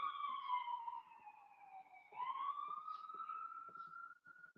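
An ambulance siren wails in the distance, its pitch sweeping down then rising again, faint against a quiet background with scattered small noises.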